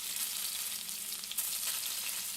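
A pot of fish curry bubbles at a steady boil, giving a continuous close hissing, sizzling wash with no voices.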